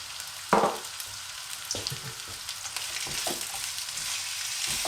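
Onions drop into hot oil with a sharp initial crackle, then settle into a steady sizzle broken by a few soft stirring scrapes, with no talking.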